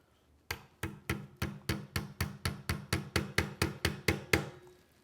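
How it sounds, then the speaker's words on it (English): A hammer drives a roll pin into the magazine module of a Ruger American Rifle with about fifteen sharp, evenly spaced taps. The blows come close and fairly loud in a steady rhythm over a quiet background. "and hammer it flush."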